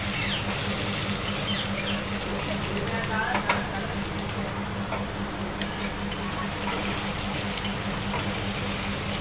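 Chopped onion sizzles in a pan of hot oil tempered with whole garam masala, a steady crackling fry punctuated by stirring clinks, with someone talking over it.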